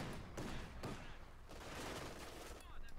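Dense machine gun and artillery fire from the Company of Heroes 2 battlefield, a continuous rattle of gunfire punctuated by heavy booms and thuds, loud and layered throughout with no break.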